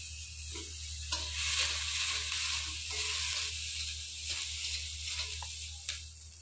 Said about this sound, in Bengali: এই যে রসুন আর কাঁচা লঙ্কা বাটা করবো, এগুলো ভাজে নিই